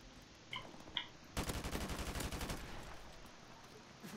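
An AK rifle fires a fast automatic burst in Call of Duty: Modern Warfare Remastered, a loud rattling string of shots lasting about a second, preceded by a couple of faint clicks.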